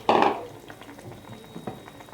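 Noodles drop into a hot pan with already-cooked egg, giving a loud opening sizzle that fades into soft frying crackle and a few stirring scrapes, with no talking.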